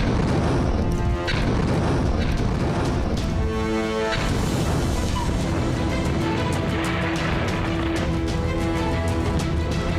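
A truck blows apart under an Israeli bomb strike in southern Lebanon, a dense, continuous roar of blast and crashing debris with sharp booming hits throughout, loud and close, with no talk.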